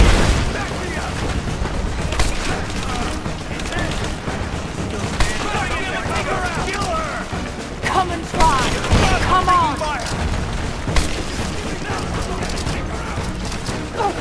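Combat gunfire in Rise of the Tomb Raider, repeated loud shots and booms scattered through a noisy firefight, with voices shouting over the shooting.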